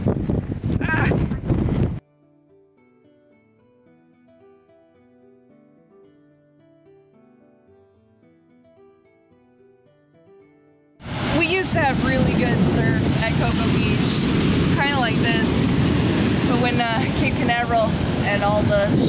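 Strong gusts of wind on a cold Icelandic coast roar loudly into the microphone, dropping away for several seconds of quiet tonal sound before the heavy buffeting rushes back and dominates to the end.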